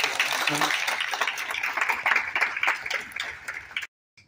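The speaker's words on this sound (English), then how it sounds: "give a round of applause for our production team" An audience applauds a production team at an event in San Juan, Puerto Rico, a dense crowd clapping steadily for nearly four seconds before stopping abruptly.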